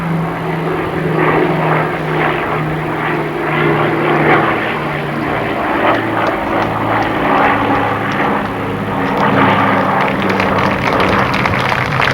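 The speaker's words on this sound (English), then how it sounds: "the airplane didn't happen to show up" A propeller airplane flying over an outdoor Memorial Day veterans' memorial dedication in Bethel Park, with a loud, continuous engine drone that swells and slowly shifts in pitch as it passes overhead, and no talking.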